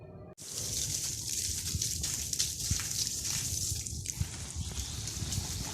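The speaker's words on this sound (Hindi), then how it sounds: "तो मैं इन्हें पानी देती हूँ" Water poured onto dry soil in potted garden plants, a continuous splashing trickle with small drips and gurgles after a brief sharp start, close and steady without voices.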